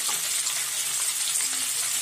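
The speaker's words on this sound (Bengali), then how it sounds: "আর টমেটোর সাথেই এখন আমি দিয়ে দিচ্ছি গ্রিন ফুলকপিগুলো" Green cauliflower, or broccoli, frying with tomatoes in a pan, giving a steady, even sizzle with faint clinks, close and alone throughout.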